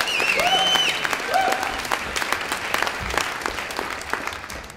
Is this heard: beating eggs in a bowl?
no